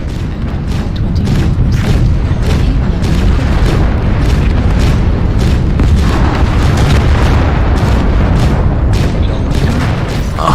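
Relentless autocannon fire from dual AC/2 guns on a BlackJack mech in MechWarrior Online, a dense, loud, continuous barrage of booming shots with no pause throughout.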